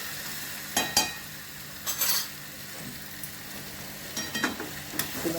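Fish-head cabbage frying in ghee is stirred in a pan, giving a few soft utensil scrapes and clinks over a low sizzle, close and fairly quiet, with no talking.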